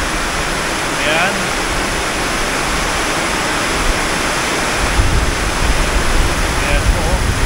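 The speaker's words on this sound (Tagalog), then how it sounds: "grabe mga katolits, lakas ng ulan" A loud, steady roar of heavy typhoon rain and gusting wind in the Bicol region, dense and close, with a voice faintly speaking beneath it.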